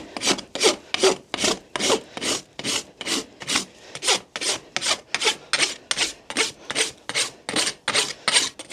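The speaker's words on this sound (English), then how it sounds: "And now it's just getting all the rasp marks out," A farrier's rasp smoothing a horse's hoof, about seventeen loud, even back-and-forth strokes in a steady rhythm, close and alone without talk.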